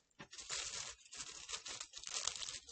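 Paper pattern being folded back over itself in a quiet room, with close crinkling and crisp rustling in several bursts, no talk.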